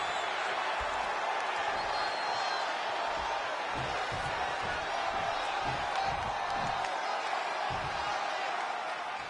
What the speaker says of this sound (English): It's great to hear the crowd give this superstar the reception he deserves